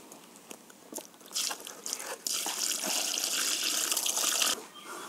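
Water pours and splashes into a mix of cow dung and country sugar being prepared for home earthworm culture, starting with scattered drips and then a steady, close gush for several seconds before stopping abruptly.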